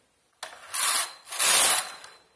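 Knitting machine carriage sliding across the needle bed twice, laying a stitch row with pink base yarn in a two-colour pattern; two close, loud rasping sweeps with a brief pause between.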